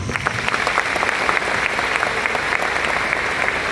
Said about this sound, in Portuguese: mulheres, uma salva de palmas para vocês